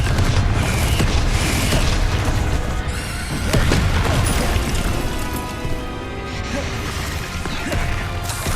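Confringo fire spell blasts in Hogwarts Legacy, a string of loud crashing explosions and impacts with debris and mechanical rumble, heavy and sustained.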